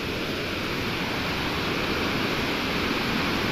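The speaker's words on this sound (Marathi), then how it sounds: "तुम्हाला आवाज येणार नाही माझा कारण का पाण्याचा आवाज जास्त आहे" Loud, continuous roar of rushing water from the Navlai waterfall near Navlai temple, broadband and unbroken, filling the scene with no voices audible.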